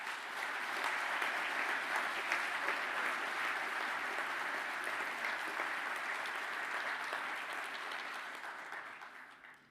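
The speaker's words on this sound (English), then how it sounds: "stand for a well-deserved round of applause" An audience claps steadily for quantity surveying graduates at a graduation ceremony, a dense, even round of applause that holds for several seconds and then fades out at the end.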